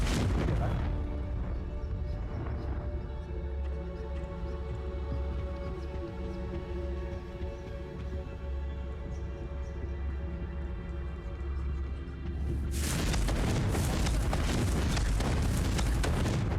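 Confringo blasting spell explosions in the Hogwarts Legacy video game: an opening blast, a long low rumbling bed with faint music-like tones, then a second loud burst near the end that sustains to the close.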